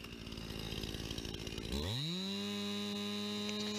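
A STIHL MS 271 Farm Boss chainsaw with a 50.2 cc engine roars close up through a cut, then the engine pitch swoops upward as it comes free and settles into a loud, steady high rev.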